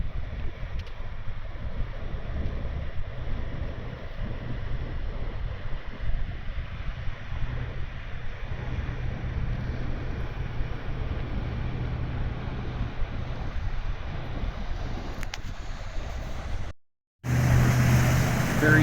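Ferry crossing from Harsens Island to Canada, a steady low engine rumble with water wash and wind buffeting the microphone, continuous and fairly loud, briefly cutting out near the end.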